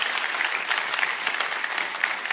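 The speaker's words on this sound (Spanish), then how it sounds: "Si va a aplaudir al Señor, apláudale bien, bien, bien fuerte." A church congregation applauds during a sermon, a dense, steady wash of clapping that stays loud and even throughout, with no voices standing out.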